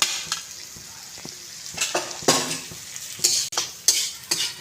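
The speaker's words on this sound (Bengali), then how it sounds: "আমি ভালো করে ভেজে নেব" Toast biscuit crumbs sizzle and frying in a pan while being stirred, with repeated close scraping strokes of a spoon against the metal in an irregular rhythm.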